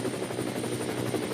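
Helicopter carrying a camera operator hovers over a motor racing circuit during a four-hour endurance race, its steady rotor thrum loud and continuous throughout with no talk.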